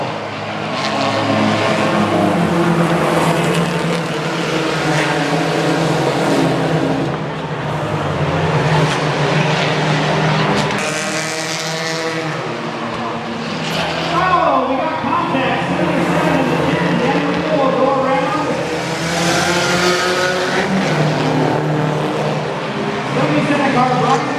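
Race cars roaring around a dirt track as the 77 and 10 cars battle for fourth, engines surging and fading as they pass, heard under continuous commentary.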